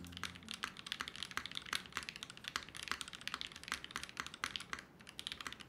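Steady typing on a Mode Sixtyfive mechanical keyboard, a fast run of crisp clacky keystrokes heard up close with no voices.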